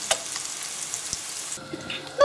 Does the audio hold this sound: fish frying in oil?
yes